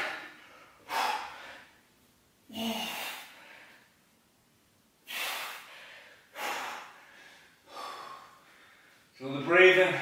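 Heavy, forceful breaths during a fast HIIT workout, loud gasping exhales in separate bursts with pauses between, ending in a strained, voiced breath.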